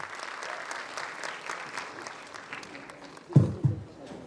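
Applause at a medical institute convocation ceremony, a steady patter of many hands clapping across a hall, with a couple of louder bumps near the end.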